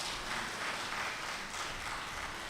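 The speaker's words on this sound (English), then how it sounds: "Let's give her a round of applause for that." Audience applause at a university inaugural lecture, a steady wash of clapping from a large crowd that holds for a few seconds at even loudness.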